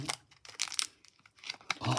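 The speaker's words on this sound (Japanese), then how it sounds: "ハサミで切るの" Scissors cut open the foil packaging of a bouillon cube in a home kitchen: close, sharp crinkling and tearing bursts in quick irregular spurts, with a voice faintly underneath.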